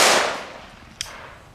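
A single sharp firecracker bang from Belgian fireworks, set off outdoors, cracking out at a moderate distance over a fading hiss of background noise.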